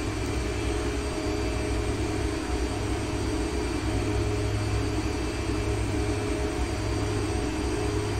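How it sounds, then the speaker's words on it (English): Simulated Douglas DC-3 piston engines droning in the X-Plane flight simulator, a steady, dense, loud hum with a deep rumble and constant tonal whine, unbroken and without talk. "to listen to the sounds between the Freeware DC-3 in the X-Plane and the Freeware DC-3"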